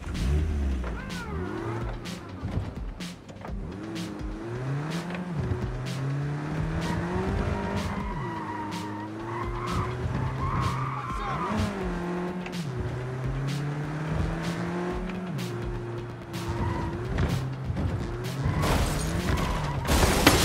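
A car in the video game Cyberpunk 2077 drives with a steady engine drone, its pitch rising and falling with revving, while tires squeal through repeated skids and a few sharp knocks or impacts punctuate the run.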